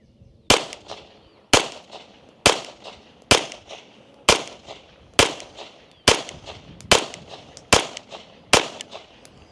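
Ten sharp gunshots ring out at a steady pace of about one per second, each a loud crack trailed by a brief echo, fired at a target through a Gideon Optics Judge green dot sight.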